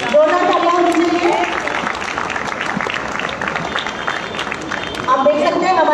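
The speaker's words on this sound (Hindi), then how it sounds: "दोनों तालियां बजने लगी।" Applause from a small group of onlookers at a railway police dog squad explosives-detection demonstration, steady clapping throughout with voices talking over it.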